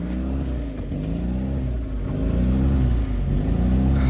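A Tracker's engine, newly installed and fitted with a new driveline, idles with a close, loud, uneven rumble whose pitch drifts up and down, with no one talking.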